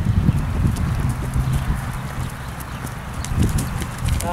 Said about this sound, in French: Tu penses transition au trot à l'intérieur.